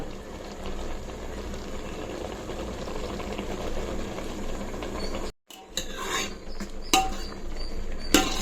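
A steady bubbling simmer of leafy greens and tomatoes boiling in water in a pot, continuous and close, briefly cut off near the middle before resuming.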